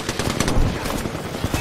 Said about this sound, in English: we're getting shot by another team